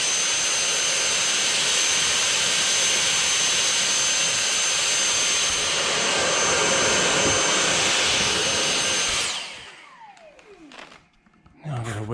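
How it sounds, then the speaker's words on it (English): A vacuum cleaner used to clear dirt from a vehicle's mirror and snorkel head during trip preparation, roaring steadily and loudly close by for about nine seconds, then winding down and cutting off, with handling noises after. "vacuum."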